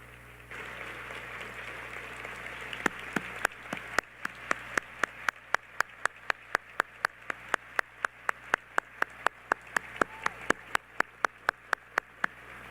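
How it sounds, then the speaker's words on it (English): An audience at a county State of the County address claps in a sparse, ragged way, with distinct sharp individual claps in an uneven rhythm over a low steady room hum, moderately loud. "please stand so we can all give you a very well-deserved round of applause"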